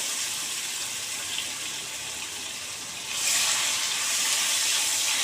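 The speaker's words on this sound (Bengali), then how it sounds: "আলুটা একটু ভাজবো" Small cut potatoes fry in a pan with cumin, cardamom and cinnamon, making a steady broadband hiss that swells louder about midway and stays strong.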